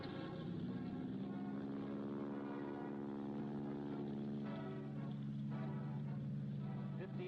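Early biplane engine drones steadily in flight, a continuous propeller hum heard from a distance and fairly faint, with no speech over it.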